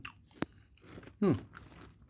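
Crunchy bites of crisp-skinned volcanic durian from Khun Han, one sharp crack then a louder crunchy chew burst, close and alone with no talk.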